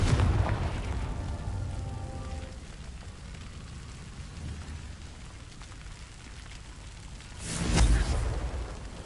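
A Confringo fire spell bursts in Hogwarts Legacy, a deep booming explosion with a rumbling tail that swells late in the clip, after an earlier rush of blast noise fades into low ambient rumble.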